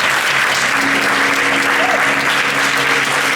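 A crowd applauds award winners coming up to the stage at a startup competition prize ceremony; sustained, loud, dense clapping holds steady for the whole stretch, with a faint voice briefly audible beneath it.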